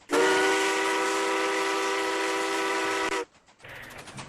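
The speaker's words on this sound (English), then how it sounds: "Looks like if I'm just gonna be blowing out the whistle" A loud, steady steam train whistle in a video game blows for about three seconds, then cuts off, followed by a quieter hissing burst.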